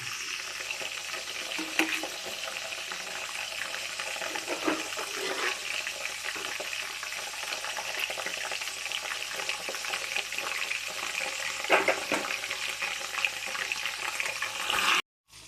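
Chicken gravy frying in hot oil, a steady close sizzle with occasional stirring scrapes, continuous and fairly loud throughout.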